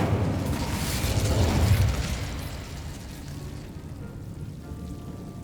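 An Incendio fire spell is cast in a Harry Potter wand game, a rushing, booming burst of flame that swells over about two seconds and then fades into a low lingering rumble.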